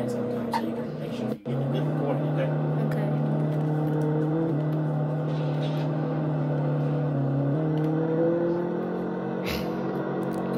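A car being driven gives a steady, fairly loud engine drone whose pitch shifts gently, with a brief sharp dropout early on.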